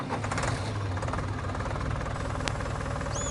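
An old-fashioned farm feed mixer starting up and running, a rhythmic mechanical clatter and engine chug repeating rapidly and steadily, close and loud with a brief sharp metallic tick near the end.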